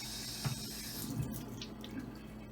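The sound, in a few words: tap water running into a cup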